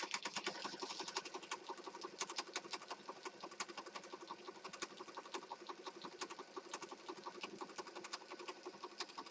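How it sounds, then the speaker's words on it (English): A sewing machine stitches a piece onto a pink and black junk journal, a fast, steady run of needle clicks and whirring that carries on without a break, close and moderately loud. "We're just a stitching away."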